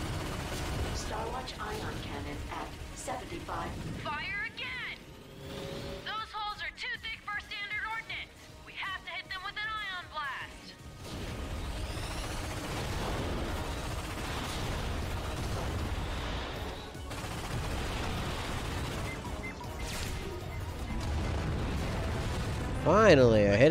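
Booming sci-fi ion cannon blasts and bursts in Ratchet & Clank, firing repeatedly amid dense rumbling battle noise, with a voice talking over parts of it.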